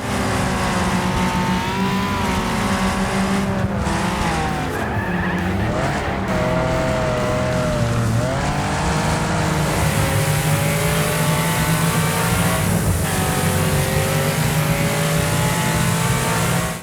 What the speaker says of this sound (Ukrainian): переважно ви чутимете звук движків, гуми, іноді ударів об поверхні, інші машини